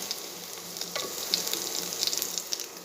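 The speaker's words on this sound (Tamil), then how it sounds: "பாருங்கள், வெங்காயம் ஓரளவு வதங்கிடுச்சுங்க" Onions sautéing in a pan with chili powder: a continuous hissing sizzle with faint crackles and light stirring, steady and fairly quiet, close by and without speech.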